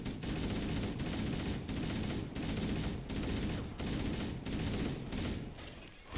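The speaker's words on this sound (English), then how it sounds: "Might as well enjoy every bit of the assault rifle here since it's 60." Assault rifle fired in a video game: a series of sustained, loud automatic bursts, roughly eight long strings of rapid shots separated by short gaps, with no talking.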